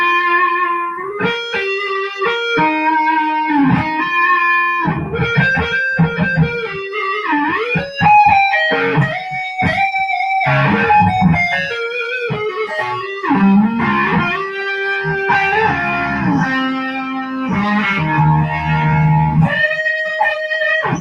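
A Byrdland electric guitar plays a run of clean, ringing single notes and chords in a lively, uneven phrase, close and fairly loud with no voices over it.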